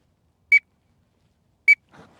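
A duck call imitating a teal gives two short, piercing whistle peeps just over a second apart, followed by a brief low breathy rustle.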